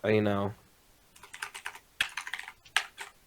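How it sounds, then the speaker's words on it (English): A burst of clacking keystrokes on a mechanical computer keyboard follows a short voice, with quick uneven clusters of sharp clicks close to the microphone and brief pauses between the flurries. "I thought it was him playing with his keyboard"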